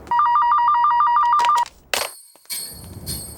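A telephone rings with a rapid warbling electronic trill that lasts about a second and a half, followed by a brief clatter and a short stretch of softer sound.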